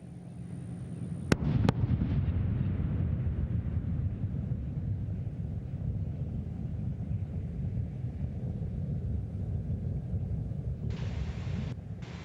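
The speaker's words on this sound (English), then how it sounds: "Sonic booms announcing Discovery's arrival." Space Shuttle Discovery's double sonic boom sounds as it arrives over Kennedy Space Center: two sharp, close-spaced cracks followed by a long, low rumble and outdoor wind noise.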